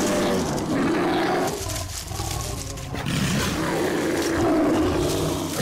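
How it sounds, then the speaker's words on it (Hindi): A tiger roars in a long, powerful, throaty rumble that surges, dips briefly, then swells again, loud and close, with a layered, continuous growling texture throughout. "ये तो बाघ की आवाज है।"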